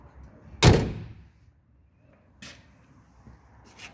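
A car's front door shuts with one loud, close slam, followed by a couple of fainter knocks and clicks in a quiet space.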